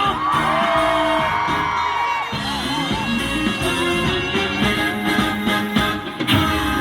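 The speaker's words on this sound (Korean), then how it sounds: "한 번 더 박수와" A large outdoor concert crowd in a parking lot at a world tea expo in Boseong whoops and cheers loudly and continuously, with shouts rising over the din.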